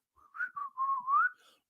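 A radio presenter whistling a short wavering tune live on air, one continuous sliding melodic phrase, close and clear against silence.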